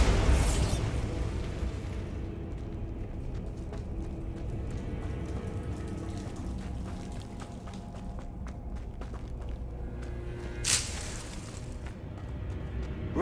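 A Bombarda explosion spell cast in a Harry Potter video game: a sharp blast opens, a second burst lands near the end, and a low rumbling game ambience runs in between.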